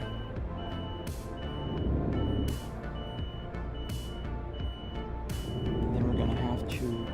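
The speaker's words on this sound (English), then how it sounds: "I know the beeping is a little bit of an annoying thing" Evenly spaced electronic truck reversing beeps in Euro Truck Simulator 2 repeat about every second and a half over a constant engine drone.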